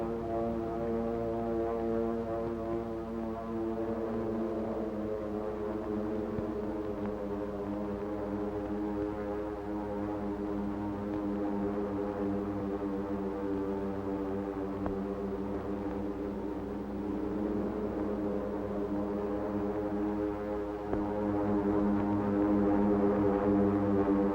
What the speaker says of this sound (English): It was 7:50 a.m. by the clock on the Aloha Tower when the drone of planes was faintly heard.